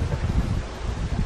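Gusty wind on a chilly, windy British summer day in a vegetable garden, a steady low rumble buffeting the microphone with faint rustling throughout, no voices.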